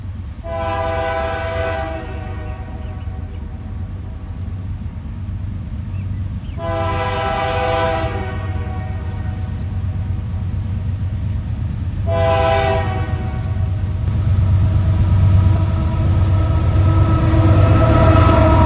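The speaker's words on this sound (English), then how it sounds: "we see a beautiful set of solid Canadian Pacific locomotives up front" Canadian Pacific diesel locomotives haul a freight train along Union Pacific track on the Spokane Subdivision toward Eastport, Idaho, sounding three long, loud horn blasts over a constant deep engine rumble and rolling wagon noise that builds steadily.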